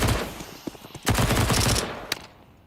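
Gunfire in a Counter-Strike pro match (ESL Pro League, BetBoom Team vs M80): a rapid burst of shots, then a louder volley midway and one sharp final crack, close and punchy with no talk.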